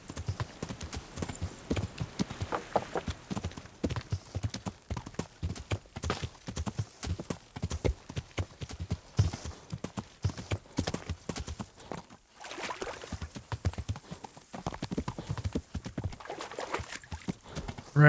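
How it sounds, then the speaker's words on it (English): Horse hooves clip-clop steadily and loudly while riding in the medieval game Kingdom Come: Deliverance, a dense continuous rhythm of hoofbeats with a brief pause midway and no talk over it. "Riding my horse while intoxicated, apparently."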